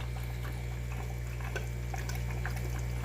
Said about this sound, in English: air pump pushes water up. Goes right out of here,